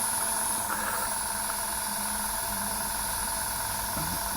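A small amount of paint sprayed through an airbrush for a plate-effect tear on a bonnet gives a steady, even hiss of air throughout, close and continuous with no talking.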